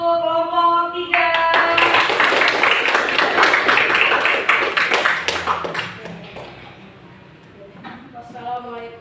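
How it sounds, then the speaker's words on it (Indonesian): Classroom applause for a student discussion group at an Islamic religious education teacher assessment session, a burst of clapping and tapping lasting several seconds under a talking voice, then thinning out and fading before brief talk resumes. "beri tepuk tangan untuk kelompok 3"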